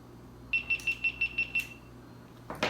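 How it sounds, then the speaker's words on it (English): A GoPro camera gives seven rapid, evenly spaced electronic beeps, high and thin but clear over quiet background hum, followed by a brief rustle. "GoPro right here beeping."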